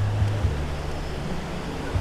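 Sea waves washing onto a dark-sand beach in Real, Quezon, a steady broad surf roar with some wind rumble on the microphone, continuous and moderately loud.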